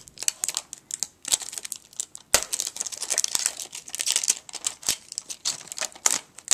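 A 1982 Huang Chung cassette case being carefully opened, with dense close crinkling and crackling of plastic and wrapping, plus sharp clicks and snaps throughout, loud and near with no voices.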